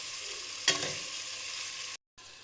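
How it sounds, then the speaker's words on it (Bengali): Ingredients fry in a pan during chicken biryani cooking, a steady close sizzle with one sharp stirring clatter early on, then the hiss continues evenly before cutting off briefly near the end. "ভালো করে ভেজে নিব।"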